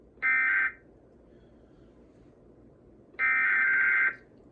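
Emergency Alert System attention tone for a required monthly test, two loud sustained electronic tone bursts about half a second and a second long, separated by a quiet gap, with no talking over them.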